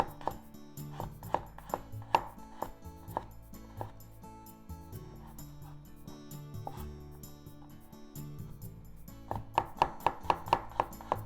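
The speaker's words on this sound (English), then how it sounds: "So garlic. Let's just make them into thin slices." A knife slicing garlic into thin slices on a cutting board, quick rhythmic bursts of crisp chops with a pause in the middle, close and clear, no talking.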